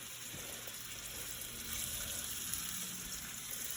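Meatballs fry in hot oil, a steady close sizzle and crackle with scattered pops, continuous throughout with no talking.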